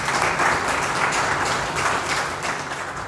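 Warm, sustained applause from an audience after a dance performance, many hands clapping steadily and fairly loud for the whole stretch, easing slightly toward the end with no voices on top.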